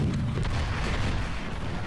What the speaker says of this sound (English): All right, we fired the cannon